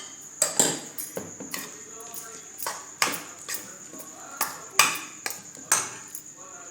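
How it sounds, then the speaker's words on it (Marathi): A metal spoon stirs vermicelli being cooked with a little ghee in a pan, giving sharp, irregular clinks and scrapes against the metal, roughly one or two per second, close and clear. "आता व्यवस्थित मिक्स करून घेऊया"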